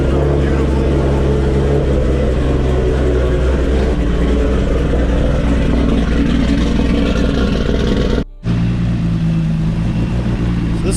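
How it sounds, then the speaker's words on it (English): A car engine with a smoking fault runs loudly and steadily, a dense continuous rumble with a brief cutout near the end. "So we're gonna go ahead and start this car right now."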